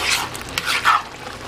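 Spoon scraping and stirring through a pot of French onion leek soup flecked with thyme, a steady series of soft swishes and clinks, close and moderately loud, with no talk.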